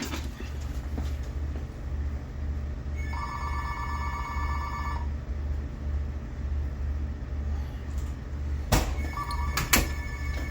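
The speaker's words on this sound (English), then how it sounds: "I'm at my restaurant right now, and the phone's ringing" A telephone rings in a restaurant, two long electronic trill bursts sounding over a steady low rumble of background noise, followed by sharper clicks and a brief second ring near the end, with no one speaking.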